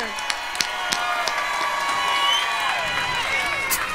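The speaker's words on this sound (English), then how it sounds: "Round of applause, y'all, for my man." An audience at the Howard Theatre claps and cheers for Milton "Go-Go Mickey" Freeman at his lifetime achievement award, a steady crowd roar with whoops and a sustained tonal sound running through it, and no clear speech.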